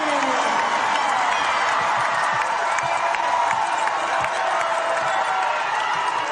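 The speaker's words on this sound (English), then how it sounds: "It's a big crowd, the lower bowl packed and making noise today at the WVU Coliseum." A packed lower bowl of basketball fans at the WVU Coliseum during a West Virginia versus Oklahoma Big 12 game roars steadily, with cheering and scattered clapping blending into a dense, continuous crowd wash throughout.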